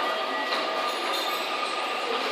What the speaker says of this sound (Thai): อันนี้เป็นสถานีรถไฟ